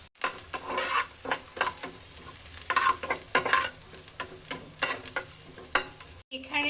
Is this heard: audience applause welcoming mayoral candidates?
no